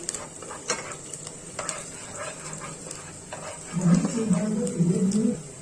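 Chilli chicken ingredients sizzle softly in a pan, and a louder scraping burst of stirring comes near the end.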